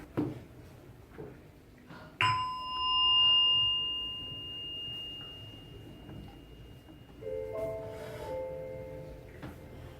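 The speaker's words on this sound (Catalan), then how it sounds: "Sentireu la campaneta, com sempre, i quan acabi, tornarà a sonar la campaneta." A small meditation bell is struck once, giving a clear sustained ring that slowly fades over several seconds, followed later by a second softer chime in a quiet room.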